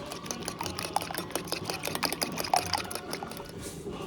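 Eggs with a little water are beaten by hand in a bowl, giving a quick, steady run of close, light clicking and tapping strokes with no talk over it.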